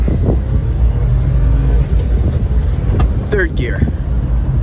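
A Honda ACTY mini truck drives along, its engine rumbling low and steady from inside the cab, while someone speaks briefly near the end.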